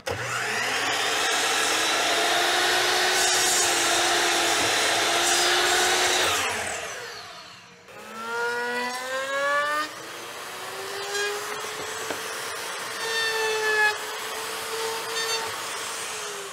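A miter saw trims the end off an epoxy and wood board: a loud motor whine spins up and cuts for several seconds, winds down, then restarts with rising and falling whirring tones.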